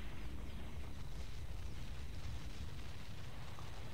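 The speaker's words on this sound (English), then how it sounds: "There come the Janus warheads, I think." Rumbling, continuous explosions from Janus warheads striking in the sci-fi strategy game Ground Control, a dense low roar with crackling debris that holds steady throughout, no voices over it.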